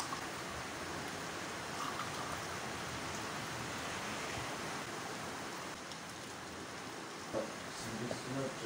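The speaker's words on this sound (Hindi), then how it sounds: "बारिश हो रही है, देखो बहुत देर के बाद बारिश हो रहा है।" Steady rain falls outdoors, a dense, continuous hiss that holds even throughout, with a faint voice briefly audible beneath it.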